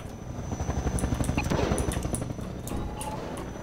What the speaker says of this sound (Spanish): No creo que haya que derribar ese helicóptero